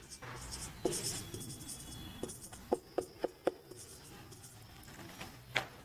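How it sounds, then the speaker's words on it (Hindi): A chemistry formula for cuprous oxide is written on a board, a series of quiet scratchy strokes and sharp taps in an irregular rhythm, close by in a quiet room. "मैं लिखता हूँ"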